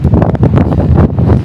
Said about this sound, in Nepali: यो माथि आएर बस्दाखेरि चाहिँ हावा चाहिँ एकदमै चल्दो रहेछ।